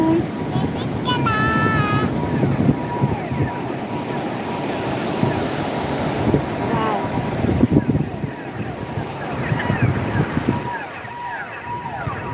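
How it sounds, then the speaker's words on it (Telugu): Ocean surf rolls steadily at Vizag beach, mixed with gusting wind buffeting the microphone, and voices talk faintly over the constant wash of waves. "బీచ్ బీచ్లో ఉన్నాము"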